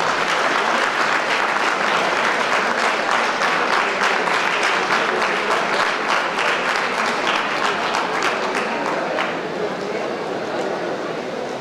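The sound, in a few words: audience applause for the police department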